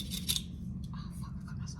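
Scissors snipping at a fashion front-row event, a couple of quick faint cuts near the start followed by soft rubbing and scratching, quiet and close.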